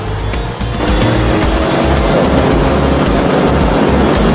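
A loud Porsche 911 GT3 RS engine roars steadily throughout, a deep sustained growl that briefly dips early on, then holds strong and close.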